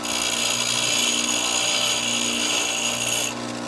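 A bench grinder grinds a chisel, giving a steady high whine with a continuous abrasive hiss close by that cuts off abruptly near the end, no talking.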